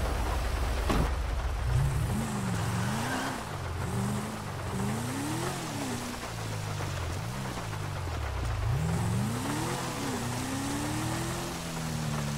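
A car driving in Grand Theft Auto V, its engine revving up and down through repeated gear shifts, the pitch climbing and dropping over and over at close range, with no one talking.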